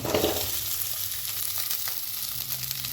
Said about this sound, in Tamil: இதில் பார்த்தீங்கன்னா வெங்காயம் பூண்டு தக்காளி கறி லீஃப் இதெல்லாம் போட்டு வதக்கிக்கலாம்